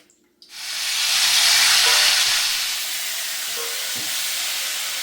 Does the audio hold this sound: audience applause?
no